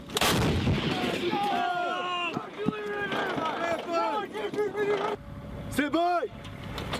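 M777 howitzer artillery fire during a crew firing drill, heavy booming blasts under loud shouted commands and crew voices throughout, with a sharp burst near the end.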